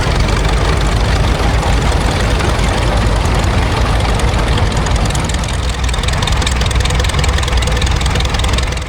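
A 1928 Caterpillar 30 crawler tractor, an original vintage machine, runs alongside other old Caterpillar crawlers, its heavy engine chugging steadily and loudly throughout with a dense low rumble and no talking.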